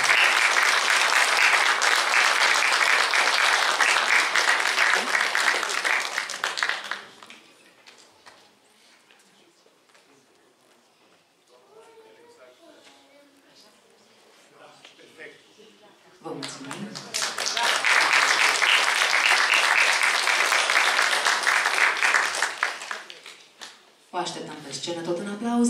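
At a rural education excellence awards gala, an audience breaks into two long rounds of loud, sustained applause separated by a quiet lull, with a brief final burst at the end.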